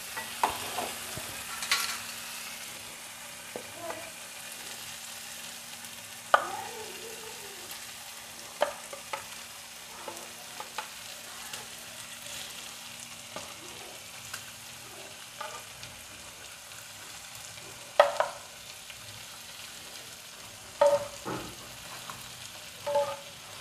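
Pointed gourd fries in spice-laced oil with a soft, continuous sizzle. Repeated scraping clicks of stirring break in at irregular intervals.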